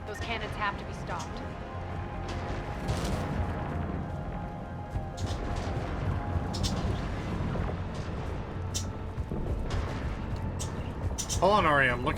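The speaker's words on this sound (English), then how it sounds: "Those cannons have to be stopped." Heavy cannon fire in Mass Effect 3 during the fight to take back Omega: repeated deep booms and blasts roll under a steady mix of game noise while a person talks throughout.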